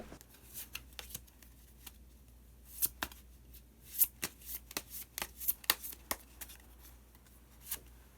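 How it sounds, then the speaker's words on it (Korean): Tarot cards are shuffled close by in a quiet room before a card is drawn, giving soft riffling flutters and sharp taps in irregular bursts. "마지막으로 마법사 카드 한 장 더 뽑아보도록 하겠습니다"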